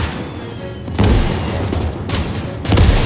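Mortar fire in the World War II strategy game Call To Arms - Gates of Hell: two heavy booms land about a second apart, then a third follows, each a loud broadband blast with a short rumbling tail.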